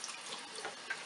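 Water from a laundry tap runs through a still condenser and drain line, giving a faint, steady trickling flow with no speech.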